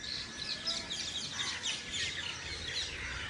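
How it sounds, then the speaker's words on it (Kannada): Birds singing around a village at six in the morning: a scattered dawn chorus of light chirps and trills, fairly faint and distant, over a soft background hush. "ಪಕ್ಷಿ ಸದ್ದುಗಳು ಕೇಳಿಸ್ಕೊಳ್ರಿ ಎಷ್ಟು ಸಕ್ಕದಾಗಿ ಕಾಣಿಸ್ತಾವೆ ಅಂತ"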